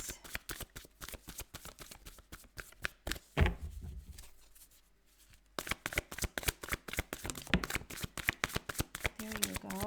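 Tarot cards shuffled in rapid riffling bursts, a dense run of crisp flicks that pauses briefly mid-way with a soft thud before resuming steadily, close to the microphone.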